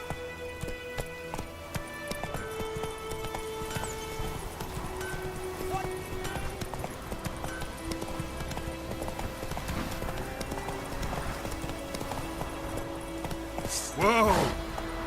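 Roach, a horse in the video game Witcher 3, gallops in steady hoofbeat clip-clops throughout, with a short neigh-like burst near the end and a voice speaking over the rhythm.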